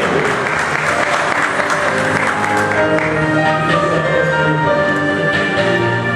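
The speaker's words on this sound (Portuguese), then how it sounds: "Vamos aplaudir mais uma vez a Academia Mundial" Audience at an award ceremony applauding steadily, a thick wash of many hands clapping that continues evenly for several seconds, with faint crowd murmur underneath.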